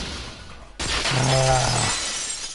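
A vase shatters in the game Danganronpa 2: one sudden sharp crash after a brief near-silence, followed by ringing shards and a tinkling tail that fades out.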